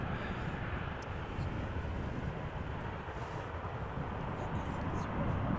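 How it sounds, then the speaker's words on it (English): Air Canada airliner bound for Toronto taking off from runway 24 at Amsterdam Schiphol Airport, a steady broadband jet engine roar that holds loud and even throughout with no clear rise or fade. "Air Canada going back to Toronto. Taking off from runway 24."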